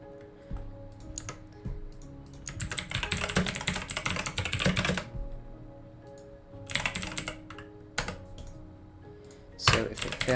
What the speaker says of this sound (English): My typing is insanely bad today.